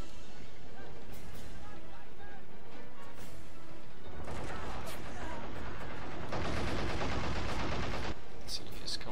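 Flak guns firing in the WWII strategy game Men of War Assault Squad 2, heavy bursts of rapid gunfire and crashes building in the second half, with someone talking at times.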